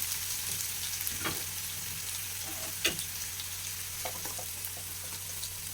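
Sliced onions and finely chopped green chillies fry in a pan with a steady, soft sizzle and a few light crackles and pops, at moderate level with no talk.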